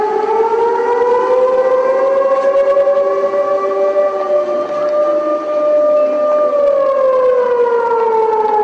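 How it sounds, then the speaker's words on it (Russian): A civil defense warning siren wails continuously during a test of the city's public alert system, its rising and falling tone loud and steady with no voices over it. "Звуки сирены были слышны в различных районах города."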